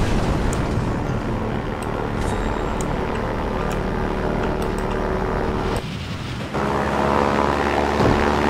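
A propeller airplane engine drones continuously in the video game Far Cry 4, loud and steady with a brief dip partway through, with no talking.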